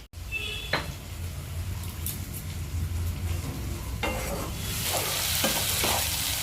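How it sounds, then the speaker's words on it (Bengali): Tomato and onion sizzle in a pan while lentil badi are added, a steady frying hiss with scraping stirs of a spatula, close and continuous. "এখানে টমেটো পেঁয়াজ এগুলো সব ভাজা হয়ে গেছে। এবার মা বড়িগুলো এর মধ্যে দিয়ে দেবে।"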